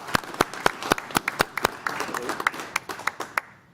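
Applause at a village board meeting, a small group clapping in scattered, uneven claps that thin out toward the end, moderately close in an indoor room.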